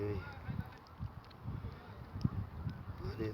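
Wild geese or similar waterfowl honk repeatedly at a hunting spot in Iraq, a series of nasal calls at moderate distance over outdoor background noise.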